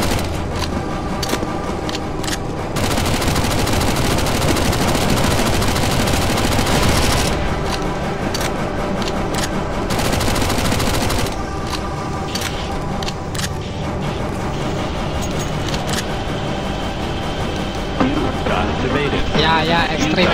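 Loud, near-continuous automatic gunfire from many players unloading on a boss in a CS:GO zombie escape map, dense rattling bursts with brief gaps, while excited voices talk over the shooting.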